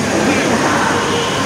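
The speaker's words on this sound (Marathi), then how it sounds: "हा रेल्वे आहे." A train at Mumbai Central railway station, loud and close, with a continuous roaring rumble of wheels and rolling stock and no pauses across the short stretch.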